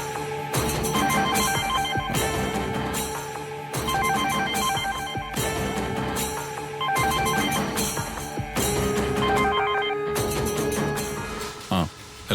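A telephone rings insistently in a dramatic indoor scene, its repeating electronic ring pattern coming in regular bursts about two seconds apart, loud and continuous before it cuts off near the end.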